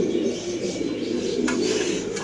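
Pigeons cooing at a busy pigeon market where birds are sold, a steady low murmur of several birds close by with a couple of brief higher sounds, no talk.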